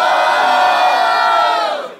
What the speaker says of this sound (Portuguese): quem acha que a Gabi foi mais criativa no terceiro round faz barulho